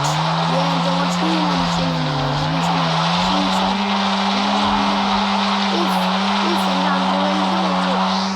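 A car drifts in the mobile game Car Parking Multiplayer, its engine holding a steady drone while the tires squeal continuously for several seconds, loud and close.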